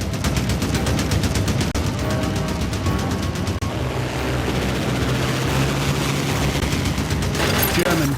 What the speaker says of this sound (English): Rear gunner Johnny Johnson lets off a burst from his guns, but misses.